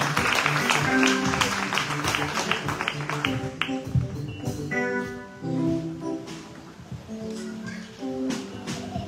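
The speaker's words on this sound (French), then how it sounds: "Monsieur, on applaudit plus fort." Audience clapping at a hotel and restaurant school graduation ceremony, a dense burst of applause that is strongest in the first few seconds, then thins and fades under music.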